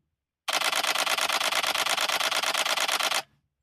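A Canon EOS 90D firing a fast continuous burst, its shutter clattering in a rapid, even machine-gun rhythm for about three seconds before stopping abruptly, close and loud with no talking.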